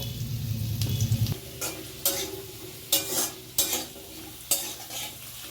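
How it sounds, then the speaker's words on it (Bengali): Whole cumin, bay leaves and dried chillies hit hot oil already used for frying potatoes, giving a loud crackling sizzle followed by a series of sharp stirring scrapes and spoon clatters spaced about a second apart, with no voices. "ওই একই তেলে গোটা জিরে, তেজপাতা, শুকনো লঙ্কা ফোড়ন দেব।"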